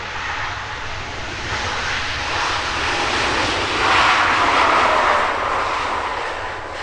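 A jet airliner lands on a runway, its engines giving a steady loud roar with a broad rushing wash that swells slightly midway and stays continuous throughout.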